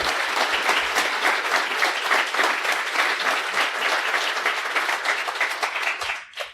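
A live podcast audience at the LCA claps loudly and densely for about six seconds, close and full, before the applause tapers off abruptly at the end.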